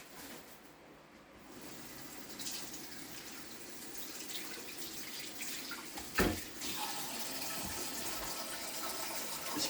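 Silver bass being rinsed under a running kitchen tap, a steady close gush of water splashing into the sink with a brief louder splash midway.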